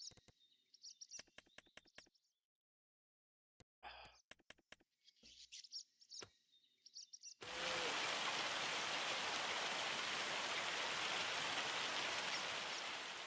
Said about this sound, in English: I am tired of the hailstorm because it's noisy